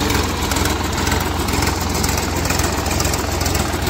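A Sonalika tractor's diesel engine idles steadily up close, a loud, even low chugging rumble with no voices over it.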